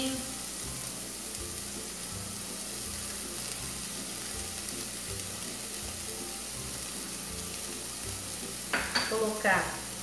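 Tomato paste and chicken sizzle steadily in a frying pan, a close, continuous frying hiss with a low rhythmic stirring scrape, and a few clinks of a utensil near the end.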